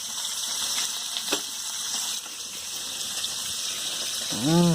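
Food frying in a pan makes a steady watery sizzle and bubbling throughout, with a few soft clinks, a louder swell near the end, and a faint voice in the background.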